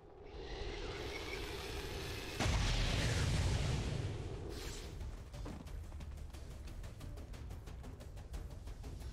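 Gunfire in the video game XCOM 2: a heavy artillery-like boom bursts in partway through, then trails off into rapid crackling shots under a constant loud backdrop.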